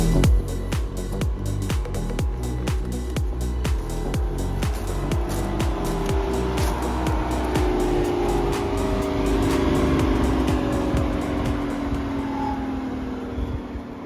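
High-mileage ex-police Volvo T5 engine idling close by, a steady rumbling drone with a fast rhythmic pulse at first, then a smoother sustained hum with faint rising whine tones, constant in level.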